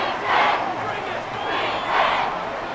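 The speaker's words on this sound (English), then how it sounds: "Crowd on their feet." A stadium crowd cheers in a Madden 24 football simulation of Dolphins versus Bills in the AFC Championship, with two swelling roars rising and fading over a steady background murmur.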